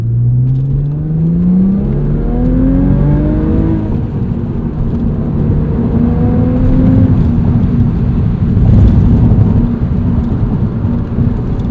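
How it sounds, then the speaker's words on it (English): A modified 2001 Audi S4 engine drones loud and steady from inside the car while driving, its revs rising in several sweeping pulls over a constant road roar. "It's a heavy flywheel. It doesn't rev that quickly when you flip it."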